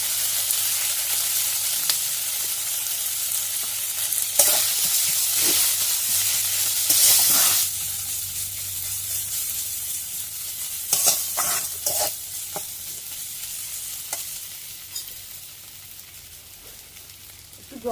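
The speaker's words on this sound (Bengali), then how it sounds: "গুঁড়ো মশলাগুলো দিয়ে দেবো। এবার ভালোভাবে কষে নেবো।" Ground spices such as turmeric powder being stirred and fried in a pan for a Bengali taro leaf dish, a loud continuous sizzle with repeated spatula scrapes and knocks, swelling and easing as the mixture is turned.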